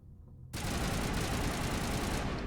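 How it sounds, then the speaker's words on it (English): Sustained gunfire from the video game Mass Effect bursts in abruptly and continues as a dense, steady rattle at moderate volume after a quiet lead-in with faint background noise. "That seems an appropriate level for gunshots"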